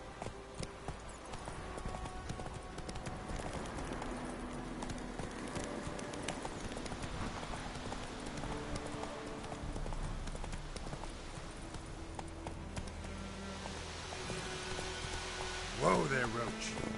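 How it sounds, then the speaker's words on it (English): A horse gallops in the video game The Witcher 3, with fast continuous hoofbeats over a rainy background, ending with a brief louder burst near the end. "Whoa there, Roach"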